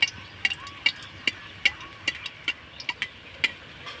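Pitha fries in oil as it is spread over the cake, giving a faint sizzle with irregular light clinks and taps from a utensil on the pan.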